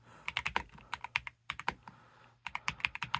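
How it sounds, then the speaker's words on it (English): Typing on a custom wireless mechanical keyboard, crisp clacking keystrokes heard close up in quick irregular runs with one short pause midway. "I'm just going to type for a second so you can hear the type sounds."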